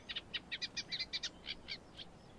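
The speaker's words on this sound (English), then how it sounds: "It's really nice sounds of the reed beds." A small bird sings a quick series of about a dozen bright, evenly spaced chirps in reed beds at Newport Wetlands, fairly clear against a quiet outdoor background.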